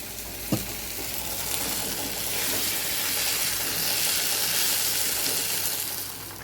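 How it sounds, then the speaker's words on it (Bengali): Fish curry broth boils in a pan after fried fish and water are added, giving a steady, close bubbling hiss with one sharp clink near the start. "দেখো জল দিয়ে দিয়েছি ঝোলটা ফুটেও গেছে"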